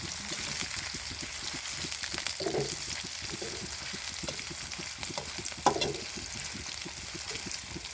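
Onions fry in a pan with a steady, moderate sizzle and a rapid patter of crackles like light rain, joined by occasional soft scrapes of stirring.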